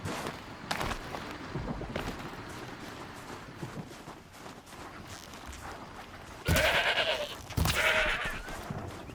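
Goats bleat in the Horizon Zero Dawn game world, two loud close calls near the end rising over a steady rustling ambient bed, with no talking.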